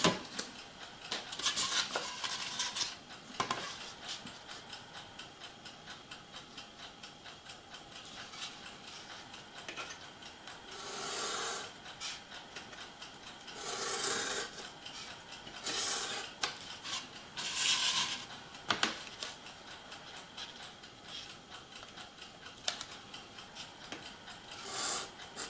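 Steady scraping and rasping of a blade cutting a part for a gauge 0 model railway station hotel, continuous close friction with brief louder strokes, no talk.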